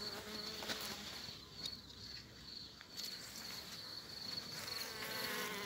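Honeybees in a dense cluster on a hive frame give off a continuous, even buzz that swells a little now and then, with faint rustling and handling sounds. It is steady, close and quiet, with no voices.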